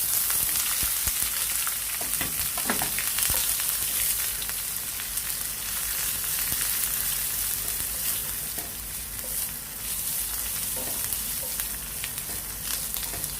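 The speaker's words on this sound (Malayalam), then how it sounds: "ഇഞ്ചിയും വെളുത്തുള്ളിയും ഒന്ന് ജസ്റ്റ് ഒന്ന് വഴന്ന് കഴിയുമ്പോൾ" Ginger and garlic fry in hot oil with dried red chillies for a tomato chutney, giving a dense, constant crackling sizzle close by, with occasional stirring clicks and no talk.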